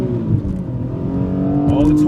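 A 2007 Infiniti G35 accelerates in first gear in manual mode, its engine note climbing steadily from inside the cabin while someone talks over it.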